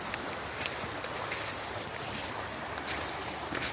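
A creek swollen after heavy rain rushes steadily, a dense, even wash of flowing water with no voices.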